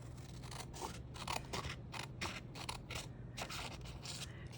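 Scissors snip and trim through paper up close for a junk journal, a steady series of crisp cutting strokes with no voice.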